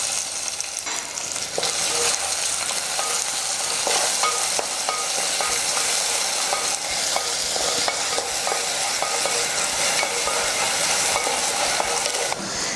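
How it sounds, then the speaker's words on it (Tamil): Chopped onion sautéing and being stirred in a clay pot, a steady close sizzle with scraping stir strokes running throughout, no talking. "அதையும் சேர்த்து நல்லா வதக்கிடலாம்."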